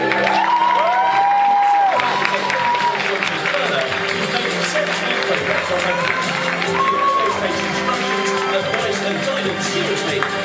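An indoor audience at a school awards ceremony claps and cheers continuously, with dense applause, whoops and children's shouts throughout, loud and close.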